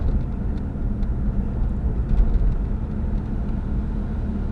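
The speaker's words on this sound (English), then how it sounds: "If I try and give it any gas, it surges like it is doing now." A Jeep Grand Cherokee with the 4L engine and a misfire fault runs loud and close, its low rumble rising and falling in uneven surges under throttle, with no one talking.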